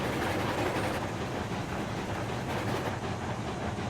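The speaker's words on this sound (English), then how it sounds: "I don't know how long it's going to take just for the train to go by" A long freight train rolls past in RailRoads Online, a dense, steady rumbling roar that stays loud and unbroken throughout, with faint clattering inside the wash of noise.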